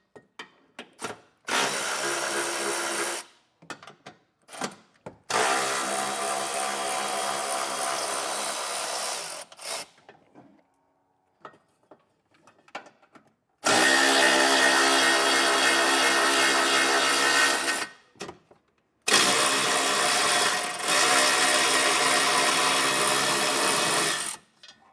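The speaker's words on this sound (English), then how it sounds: "these are all going to require a 12mm socket to get these loose" Bursts of a power tool with a 12mm socket whirring loose bolts on a 2020 Toyota during a trailer hitch install. It runs in four long, loud, close runs separated by short quiet gaps with faint clinks.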